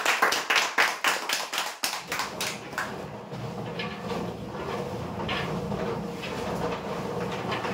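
A short burst of clapping for a prize winner at a lucky draw, a few sharp distinct claps at first that quickly fade into softer scattered clapping and room noise.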